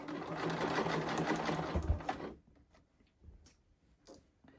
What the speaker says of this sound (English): Just going to back stitch on the end